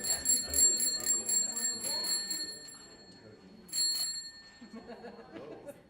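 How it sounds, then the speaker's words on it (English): A bicycle bell rings in a classroom, a rapid burst of bright metallic dings, a pause with talk and light laughter, then a second shorter burst of rings before voices carry on. "Bicycle bell. Saves your voice."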